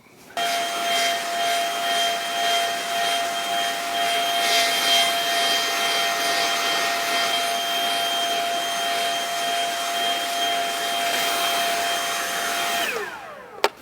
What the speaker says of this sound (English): I'm going to use my leaf blower to bring this all into a heap